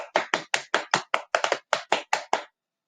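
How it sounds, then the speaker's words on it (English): Hands tap on knees to count out a rhythm for Tchaikovsky's Russian Dance from The Nutcracker in a music lesson: about a dozen crisp, close slaps in a steady, even pulse, with no talking. "just try tapping it on your knees like that."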